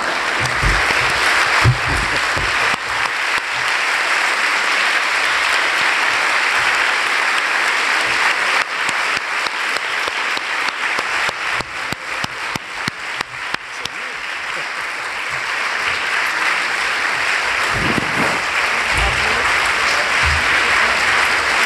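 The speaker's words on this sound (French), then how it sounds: "Il y a des applaudissements qui partaient" An audience applauding at the end of a lecture at the Collège de France, dense sustained clapping that holds steady, thins and fades, then briefly swells again near the end.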